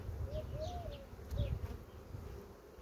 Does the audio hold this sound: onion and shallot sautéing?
no